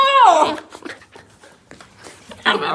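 A dog whimpers and whines with a rising, squealing cry while playing and nipping, followed by softer movement sounds and a brief burst at the end.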